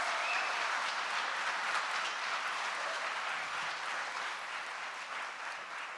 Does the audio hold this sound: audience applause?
yes